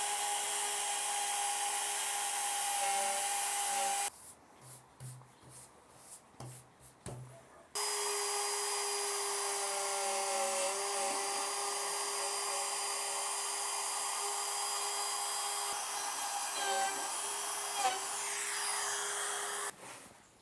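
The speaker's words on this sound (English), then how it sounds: "I figured I'd print an attachment for my trim router to turn it into, well, I guess a surface planer." Trim router fitted with a 3D printed planer attachment surfacing a thin wooden plank, a steady high whine with a brief drop partway through, then continuing.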